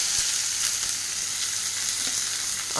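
Mustard seeds and fennel spluttering in hot oil for a mutton gravy, a steady close frying hiss dotted with small crackling pops.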